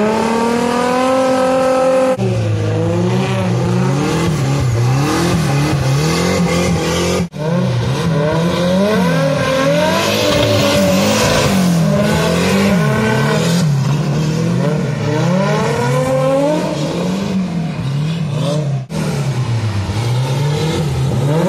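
Two 500 hp Chevette cars tandem drifting, their engines screaming and revving hard with rising and falling pitch, loud and continuous with brief gear-change dips and some tire squeal.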